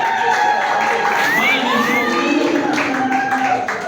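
An audience at a defense ceremony cheers loudly with shouts, whoops and high excited voices over a continuous roar of clapping, sustained and close throughout.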